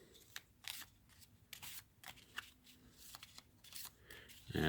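Mission cards for the board game Space Infantry: Resurgence are shuffled by hand in a series of quick, close riffling bursts with brief pauses between them and a soft knock at the end.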